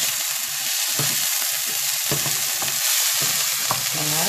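Celery and onion sizzle in a hot pan for a meatless chili, a steady frying hiss with a few scraping knocks as a spoon stirs through them, no voices.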